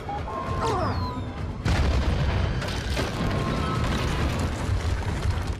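Bomb blasts in a Mandalorian episode: a sharp opening crack with ringing debris, then a deep, heavy boom that rolls on with sustained rumble and crackle, and a further burst midway, loud and close.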